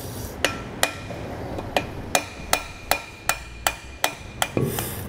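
A seal being driven into a trailer wheel hub with a seal driver: about ten evenly spaced metallic hammer taps, close and moderately loud, with a slight steady rhythm and no talking.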